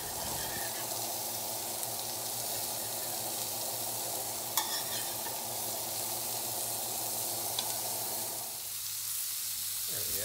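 Eggs cooking low and slow in a vintage Birmingham Stove & Range cast iron skillet, a steady gentle sizzle with faint occasional clinks, easing off near the end.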